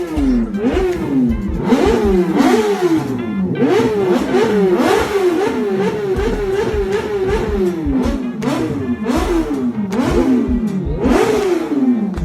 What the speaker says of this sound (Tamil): இன்லைன் 4 எக்ஸாஸ்ட் நோட் சும்மா வேற லெவல்ல இருந்துச்சு